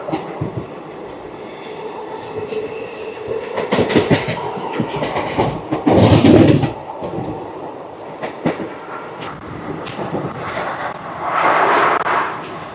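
Ratnachal Express train rushing past Gollaprodu railway station without stopping, with loud clattering wheels and rumbling carriages, rising into bursts of heavy rattling as cars pass close by.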